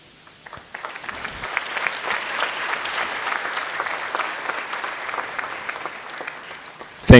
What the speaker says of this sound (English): so that we appreciate them with a round of applause.